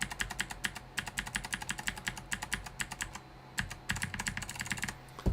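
Typing on a computer keyboard, a fast run of crisp key clicks in quick bursts with one brief pause, close and clear, with no voices.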